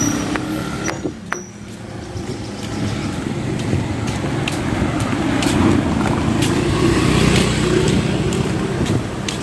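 Steady roar of highway traffic at the corner of Sudlon near GY Square, with vehicles rushing past and a few sharp clicks early on. The drone swells slightly as it goes, and no one speaks.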